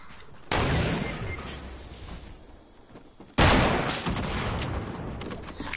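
Gunfire in a Fortnite match during a sniper fight: two sharp, loud shots with booming reports, the second followed by a burst of rapid fire and lingering rumble, all close and dominant.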